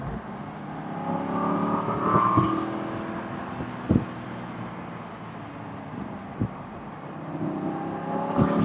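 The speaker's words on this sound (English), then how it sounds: "Listen to that sound of the motor" A 2009 Aston Martin Vantage engine with a 6-speed manual revs up and settles back repeatedly, a steady motor drone rising and falling with a few sharp knocks, no talking.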